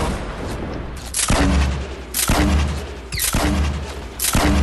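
Gunfire in a Fortnite duos match: four loud, sharp shots or blasts at roughly one-second intervals, each with a booming tail, over steady background game noise.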